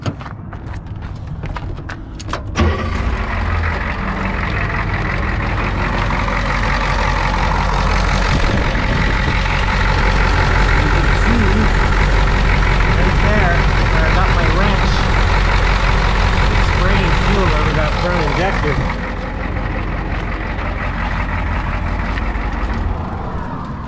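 An RV motor starts up and settles into a steady, loud, rumbling idle that runs nearly throughout, with a brief clattering at the start before the engine catches.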